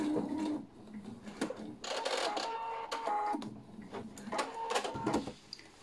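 Sewing machine stitching a silk pillowcase seam, running in short bursts with brief pauses and starts, close up and fairly quiet with no talking.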